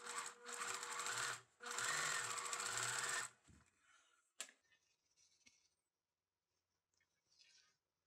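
A sewing machine stitches a seam on mosquito screen fabric in two loud, steady bursts with a short pause between them, then stops, leaving faint handling clicks and rustles.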